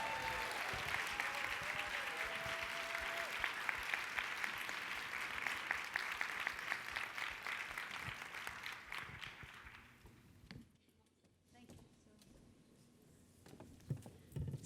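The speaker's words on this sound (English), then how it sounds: "can we just give one more applause?" An audience at a summit demo and panel claps warmly for about ten seconds, dense and steady, before the applause thins out and stops. Brief talk and faint room noise follow.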